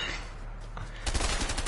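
Rapid machine gun fire in a video game, a burst of quick rattling shots that grows louder and denser in the final second after a quieter stretch.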